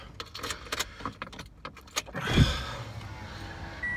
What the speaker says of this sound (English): I'm trying to start the goddamn car without stopping the